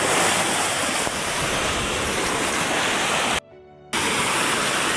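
Sea waves wash onto a rocky shore in the late afternoon, a steady loud roar of surf with wind noise, broken by a brief dropout near the end, no talking.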